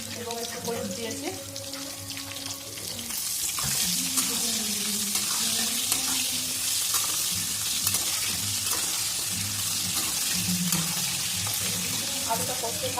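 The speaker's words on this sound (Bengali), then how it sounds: "আলুটা কষতে থাক" Potatoes seasoned with salt and turmeric fry in a pan, a continuous loud sizzle that swells after a few seconds and holds steady, with a voice speaking over it early on.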